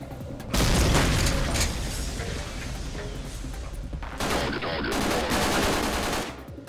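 A grenade blast and bursts of gunfire in a video game form a loud, dense wall of booming explosions and rapid shots that barely lets up, with a brief dip in the middle before the firing surges again.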